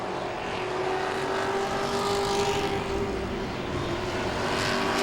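Grand stock race cars roar around the oval at Langley Speedway in a continuous, steady engine drone, several cars blending together at a distance with a faint pass-by swell.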